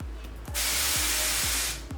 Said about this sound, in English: So I'm gonna use my Amazing Grace dry shampoo for now